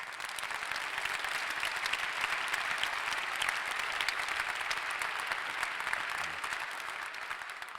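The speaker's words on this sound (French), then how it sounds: "Je vous demande également de les applaudir." An audience applauding at a French civic conference, continuous even clapping from a large crowd that holds steady and loud for several seconds without any voices on top.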